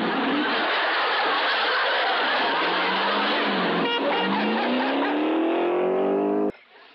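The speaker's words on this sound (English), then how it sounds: "a thief bolts out with his stolen car" Stolen antique car in a TV show speeding out of a garage, a loud sustained engine roar with rising pitch as it accelerates, ending abruptly.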